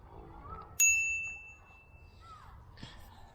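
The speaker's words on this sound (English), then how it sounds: "Got a little bell." A single bright bell ding from a Benelli Nerone cruiser bicycle rings out, its clear metallic tone lingering and fading over a second amid quiet outdoor background noise.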